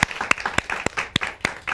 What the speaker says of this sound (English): Big round of applause to her